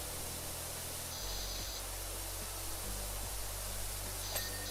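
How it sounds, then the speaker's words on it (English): Pressure washer spraying water on an old building in a video game, a steady hissing rush of spray with a low mechanical hum under it, fairly faint and continuous, without voices. "climbing on an old building and just spraying it with water"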